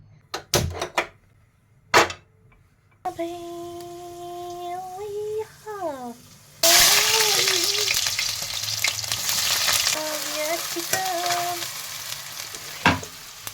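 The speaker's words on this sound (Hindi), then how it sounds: "ये मेरी प्याज बन रही है।" Onions fry in a pan with a steady, loud sizzle that fills the second half. Earlier come sharp clatters and some tonal sounds.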